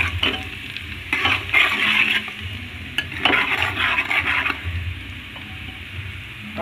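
Spices roasting in a hot pan, a loud close sizzle broken by bursts of scraping as a spoon stirs them, running continuously with no talking.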